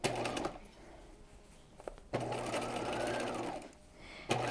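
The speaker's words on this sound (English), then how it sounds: "And I'm understitching just about 1/8 of an inch away from the seam line." A sewing machine runs in two steady bursts, understitching the lining of an apron dress bodice about 1/8 inch from the seam line, close and clear with brief pauses between runs.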